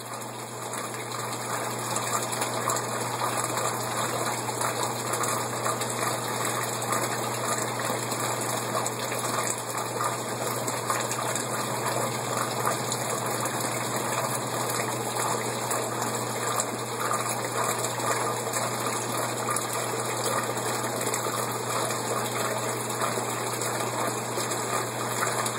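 Water gushes steadily through a newly filled siphon, making a constant close rushing pour with a low hum underneath that holds unchanged for the whole stretch, with no voices.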